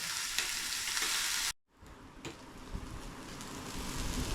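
Fish sizzles steadily in a hot pan, a loud, even hiss that cuts off briefly, then resumes slightly muffled, with no talk.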